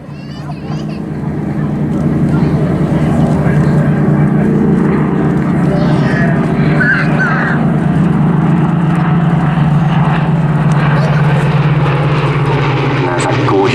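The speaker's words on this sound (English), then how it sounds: "And there's that gorgeous sound of the Griffin and Merlin engines." A Battle of Britain Memorial Flight Mark 19 Spitfire with a Griffon engine and a Mark 2C Hurricane with a Merlin engine fly past at Southport Airshow, a loud, steady piston-engine drone that swells and holds, with an announcer talking over it.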